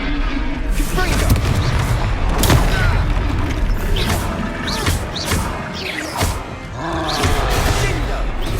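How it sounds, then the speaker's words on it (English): Confringo fire spell from Hogwarts Legacy bursting in a string of loud booming blasts and crashing impacts during a chaotic fight, layered with shouting voices and battle clutter throughout. "Confringo!"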